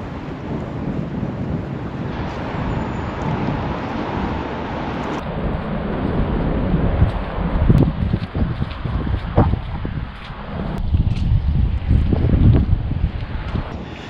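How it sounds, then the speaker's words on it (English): Cold wind blows outdoors in Sofia, Bulgaria, a steady rushing roar buffeting the microphone, swelling in gusts toward the end. "it's starting to get windy and cold again"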